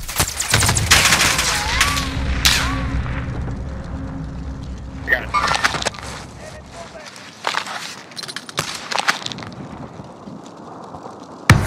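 Bursts of rapid gunfire from Call of Duty: Warzone crackle loudly through a quads match, with shots continuing in scattered volleys and players talking over the action.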